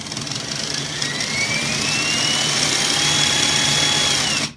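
Dual electric motors of an SCX10 Deadbolt RC crawler running on a small battery pack give a loud, steady high whine that slowly rises in pitch, then cuts off abruptly at the end.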